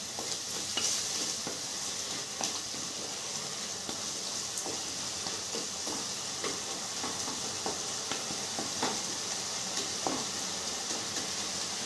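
Onion paste sizzling and frying in hot oil for a fish curry, a steady bright crackle with occasional stirring clinks, close and continuous without any voices.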